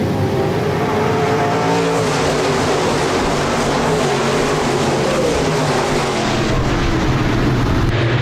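Modified race cars roar around Park Jefferson Speedway at full throttle, several engines layered loud and continuous with rising and falling pitch as the pack races on a dirt oval.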